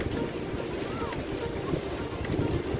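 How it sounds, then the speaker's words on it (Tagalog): Strong sea waves whipped up by the habagat monsoon wind wash steadily along the shore, a dense continuous roar mixed with gusting wind buffeting the microphone. "malakas ang alon ngayon dahil uh, habagat daw ang tawag niya dito"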